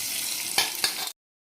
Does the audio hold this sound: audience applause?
no